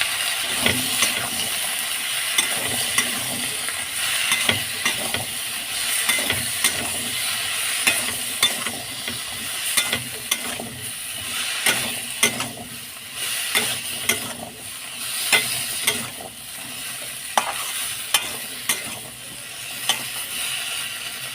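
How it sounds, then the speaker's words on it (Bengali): Cauliflower, potato and beans stir-frying in a pan over a medium flame, a steady close sizzle broken by frequent scraping and clattering stirs throughout, with no voices. "মিডিয়াম ফ্লেমে তিন মিনিট নাড়াচাড়া করে কষিয়ে নিয়েছি"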